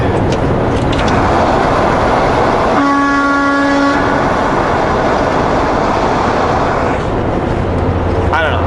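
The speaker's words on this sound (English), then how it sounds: "it's still fun honking" A truck horn blares in a tunnel for about a second as a steady, loud tone, amid continuous heavy road rumble and echoing traffic noise, with no talking.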